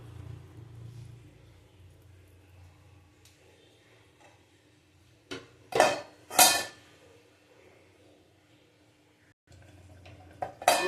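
A lid set over a pot of simmering lentil dal on a gas stove, two sharp metallic clanks close together, with a low burner rumble before and after.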